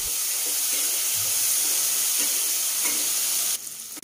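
Kashmiri chilli powder and coriander powder cooking with a splash of water in a pan for an egg mustard gravy, giving a steady close hiss and sizzle with faint stirring clicks that drops away near the end.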